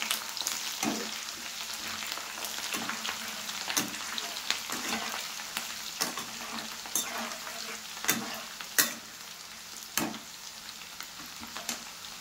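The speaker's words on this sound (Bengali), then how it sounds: "পেঁয়াজ কুচিটা অ্যাড করে দিলাম" Chopped onion frying in a pan for a flattened-rice pulao, a constant close sizzle broken by periodic sharp spatula scrapes and knocks as it is stirred.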